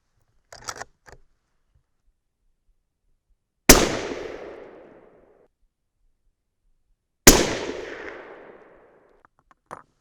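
Two sharp, loud 300 Win Mag rifle shots about three and a half seconds apart, each a crack followed by a long decaying echo, with small metallic clicks of handling before the first shot.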